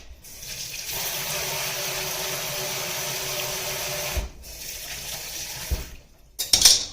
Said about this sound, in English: Again, I'm going to rinse this off.